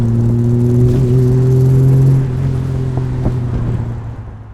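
Cobra-style car with a Triumph straight-six engine idling with a steady low droning hum, then dropping slightly in level as it settles into a quieter rumble, no talk.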